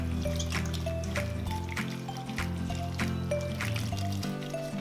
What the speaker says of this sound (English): Just swish this around, and again, all that sand's going to drop to the bottom.